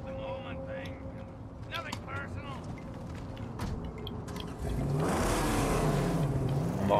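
In the video game Mad Max, a car engine starts up and revs loudly in the second half, following a stretch of scattered game noises and clatter.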